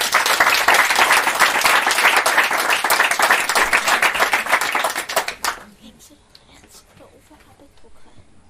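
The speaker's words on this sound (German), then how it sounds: "Applaus!" Audience at a youth hackathon presentation in Switzerland breaks into loud, dense applause for about five seconds, then it cuts off abruptly, leaving a quiet room with faint scattered sounds.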